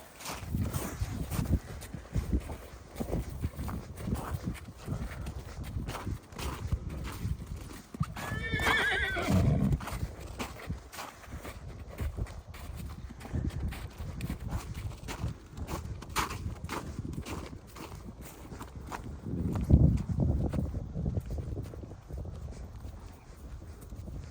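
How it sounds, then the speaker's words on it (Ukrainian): Hooves clip-clop steadily over rough ground while a horse lets out a high, quavering neigh partway through, with soft wind and rustling around. "Такий лошачок."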